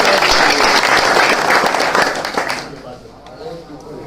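A village crowd at a panchayat election gathering gives loud, dense applause to welcome a candidate. The clapping fades after a few seconds, leaving scattered claps and voices.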